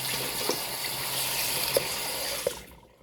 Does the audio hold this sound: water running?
yes